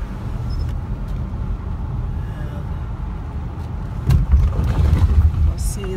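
Morning road traffic passes, a steady low rumble of cars with a louder vehicle swelling near the end, with a person talking over it.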